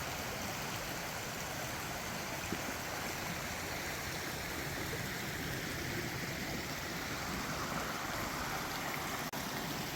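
Steady broadband rush of a creek flowing on a quiet wooded property, continuous and fairly close, with no voices over it.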